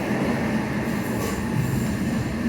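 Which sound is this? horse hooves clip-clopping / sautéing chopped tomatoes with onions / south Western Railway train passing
south Western Railway train passing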